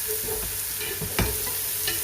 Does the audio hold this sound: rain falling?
no